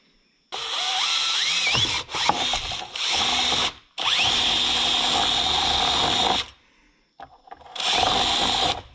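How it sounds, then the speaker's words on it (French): Power drill boring a hole into the frame of a Derbi 50cc moped, whining loudly in several long bursts with pitch rising as it spins up, separated by brief silences. "On perce un peu de biais parce que la vis elle est de biais"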